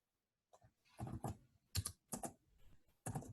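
Someone types on a computer keyboard, a close, quiet run of key clicks in short irregular bursts with pauses between.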